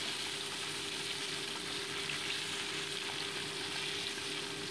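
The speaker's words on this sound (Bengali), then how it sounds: "এবার মাছগুলোকে উল্টে পাল্টে আমি ভেজে নিচ্ছি।" Bata fish being turned over as it fries in hot mustard oil in a kadai, a steady dense sizzle that carries on without a break and without any talk.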